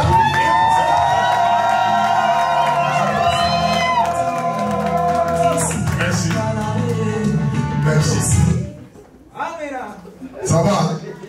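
Wedding guests at a Congolese celebration cheer, whoop and shout as a crowd, loud and sustained at first, then dropping away before a short renewed burst, with voices mixed throughout.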